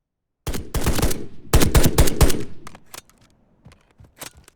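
Gunfire from a gun in the Reaper Actual video game: two loud, rapid automatic bursts fired close, followed by a few scattered single shots trailing off more faintly.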